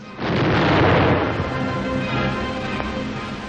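A hand grenade explodes with a loud, close boom. The deep rumble stays strong for about a second, then thins into a long noisy tail that fades slowly.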